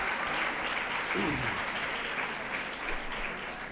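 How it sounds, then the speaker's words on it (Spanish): Steady crowd applause fills a hall at a Catholic religion teachers' congress in Andalusia, a dense, even wash of clapping throughout with no break. "El aplauso"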